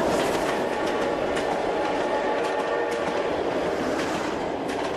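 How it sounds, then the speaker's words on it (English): A train runs steadily along the rails with a continuous rumble and faint clickety-clack, loud and close, alone with no voices. "they took the train."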